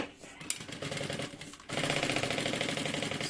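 A sewing machine stitches a bag lining close to its edge, starting with a short burst and then running loud and steady with a fast mechanical chatter. The lining is laid wrong side up.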